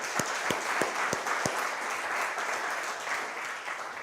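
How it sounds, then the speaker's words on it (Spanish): A church congregation breaks into applause, opening with a few distinct sharp claps before settling into a steady, even wash of clapping from the crowd. "Dele un aplauso a Dios"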